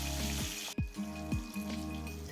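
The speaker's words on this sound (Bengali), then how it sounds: "বেগুনগুলোকে আমাদের এখানে ভেজে নিতে হবে পুরো রান্নাটাই সর্ষের তেল দিয়ে করার চেষ্টা করো" Eggplant pieces fry in mustard oil in a pan, a close, steady sizzle and crackle broken by a few soft knocks and stirring sounds.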